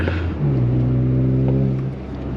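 Toyota GR Corolla engine revving hard under acceleration, a loud, close, rising engine note with strong harmonic tones that climb and hold steady for a couple of seconds.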